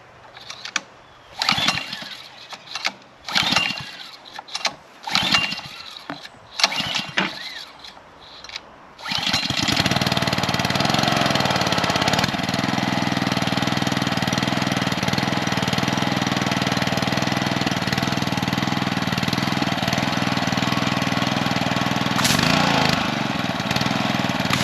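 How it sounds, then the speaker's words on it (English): Ryobi gas-engine pressure washer with surface cleaner, pulled through several short, sputtering start attempts before the engine catches and settles into a loud, steady idle that runs without a break. "Forgot to turn the fuel on."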